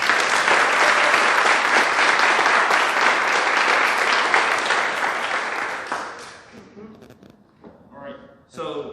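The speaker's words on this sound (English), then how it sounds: "I just want everyone to give her also a round of applause" Audience applause for a respiratory therapy team leader at UNC Lenoir Health Care, a dense sustained round of clapping that fades out, followed by a brief voice.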